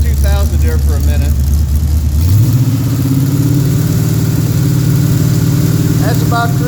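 A 1967 Pontiac GTO with a 400 engine rumbles at low speed, then climbs and holds a steady, loud, even drone at about 2,000 RPM, with brief voices near the start and end.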